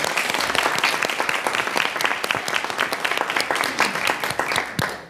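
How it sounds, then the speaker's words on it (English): A city council meeting audience applauds steadily, a dense wash of many hands clapping close by, continuing without pause. "just giving them a round of applause"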